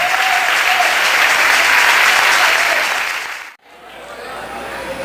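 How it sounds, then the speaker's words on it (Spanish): Church congregation applause offered during a worship service, a full dense wash of clapping that holds strong, then tapers and cuts off abruptly, leaving quieter room ambience. "una ofrenda de aplauso."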